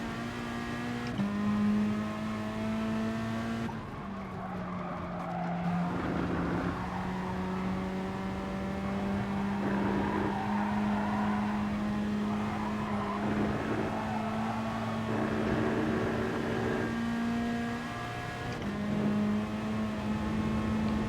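Race car engine in the GT Sport racing video game, a loud sustained drone holding a steady pitch with slight rises and dips through a lap, continuous and close with no talk over it.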